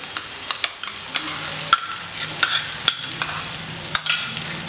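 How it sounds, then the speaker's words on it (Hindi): Cashew paste frying in ghee with onion paste for shahi malai paneer, a soft steady sizzle punctuated by sharp metallic spoon taps and scrapes against the pan, no speech. "इस प्याज के पेस्ट को 2-3 मिनट तक भूनने के बाद अब मैं इसमें काजू का पेस्ट डाल रही हूँ"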